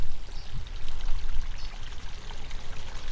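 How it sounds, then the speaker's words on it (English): Water pours steadily into a carp fishing lake on the far bank, a continuous low rushing wash with no talk over it. "we've got our water rushing in on the far side"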